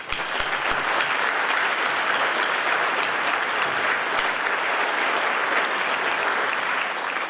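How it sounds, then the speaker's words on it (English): Graduating students at a December university commencement ceremony break into sustained applause, a dense, steady wash of clapping from a large crowd that holds at an even level throughout. "I think it's a good time for you to applaud yourselves right now"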